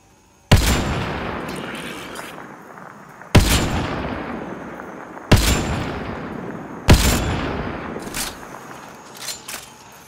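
Four loud gunshots in Mass Effect: Andromeda ring out at spaced intervals, each with a long decaying echo, followed by a few fainter shots near the end.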